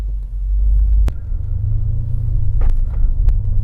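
A BMW F90 M5 Competition drives along the road, its deep engine and tyre rumble steady and close, with a few sharp knocks from the cabin or road surface.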